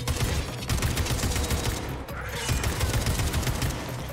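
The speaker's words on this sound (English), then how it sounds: "Damn, two shots and he still ain't dead." Rapid automatic gunfire from the video game Atomic Heart rattles in a dense, continuous fusillade, loud and close, with a brief dip midway before the shooting resumes.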